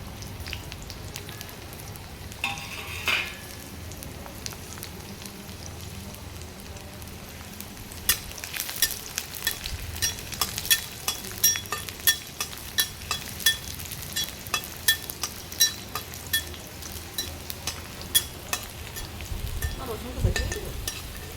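Garlic hits oil in a pan for a fish dish, first quiet, then a steady sizzle with frequent crisp crackles and scraping stirs that grows busier over the second half.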